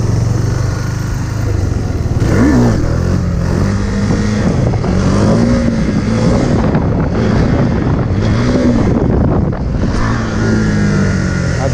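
A motorcycle engine revs up and down with the clutch being pulled while the rider practices wheelies in a lot. The engine is close and loud, with rising and falling pitch under heavy wind buffeting on the microphone.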